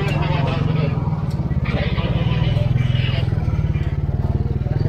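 Motorcycles crowd a congested Manila street where vehicles are parked along the roadway, their engines making a close, steady, throbbing rumble that holds throughout.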